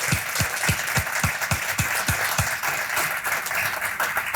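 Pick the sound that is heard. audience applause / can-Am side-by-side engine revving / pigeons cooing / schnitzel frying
audience applause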